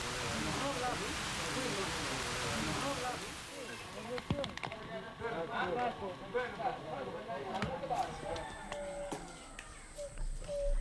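A brief tropical rain shower in the rainy season on the Bissagos islands hisses steadily across surfaces at first, then thins into scattered drips and patters, with birds calling through it.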